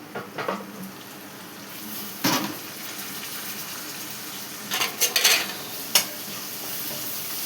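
Four tomatoes fry in a pan under a soft sizzle, broken by a few scattered bursts of spoon scraping and clatter as they are stirred, heard close with no voices.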